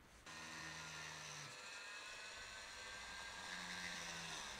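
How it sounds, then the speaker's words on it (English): A power drill runs continuously, boring holes through a homemade nonacopter frame, a steady loud whine from start to finish with a brief dip in pitch partway through. "so I can drill the first holes in my frame."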